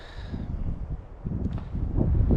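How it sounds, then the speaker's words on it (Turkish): Wind at a campsite, gusting in uneven swells with buffeting rumble on the microphone and light rustling, building louder toward the end. "Şimdi de hala rüzgar var."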